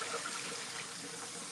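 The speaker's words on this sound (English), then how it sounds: "my point here is just to really just rinse it" Water rinsing mason bee cocoons in a colander, a faint, steady splashing rush of running water, brief and continuous with no talk.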